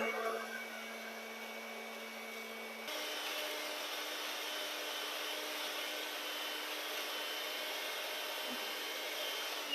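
An electric mixer beats four egg yolks for a key lime pie, giving a steady, close motor whir that grows a little louder after the first few seconds and runs without a break.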